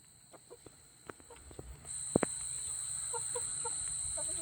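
Pet roosters cluck and murmur softly in a series of short calls, close by, with scattered clicks and knocks and a steady high-pitched hiss behind them.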